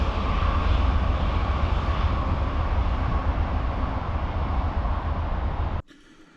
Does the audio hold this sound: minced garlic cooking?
no